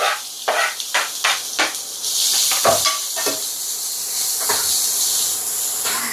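Fennel seeds spluttering in plenty of hot oil, then onions tipped in and sizzling loudly, while cooking mutton liver. Sharp pops and crackles come first, then a steady close hiss runs on without talk.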